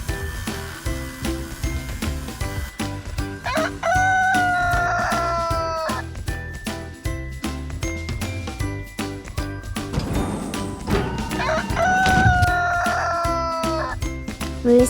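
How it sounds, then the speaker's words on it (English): Rooster crowing twice, each a loud drawn-out cock-a-doodle-doo, set over cheerful background music with jingling percussion. "Rooster."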